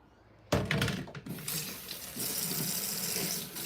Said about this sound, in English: And we do a quick little rinse over.